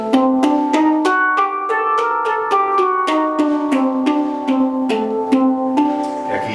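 Hang drum (handpan) in hijaz tuning, struck in a steady flowing run of ringing, overlapping metallic notes with bright attacks and long sustain, played close and alone.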